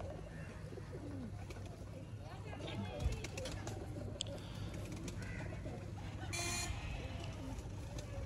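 Teddy breeder pigeons coo in a steady background chorus on a rooftop loft, with someone speaking over them and a brief horn-like toot.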